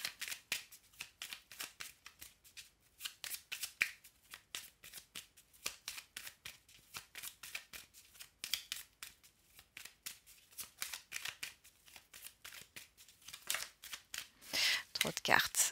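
A deck of cards being shuffled over and over, rapid crisp riffling bursts repeating in an irregular rhythm at close range, with a quiet voice speaking at times.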